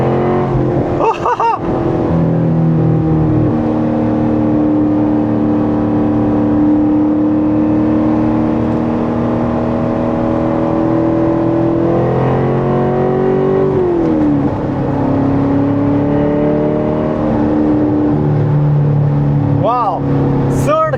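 A Chevrolet Corvette C7 engine drones loudly up close, with pitch climbing and dropping as it pulls through gear changes under a speaking voice.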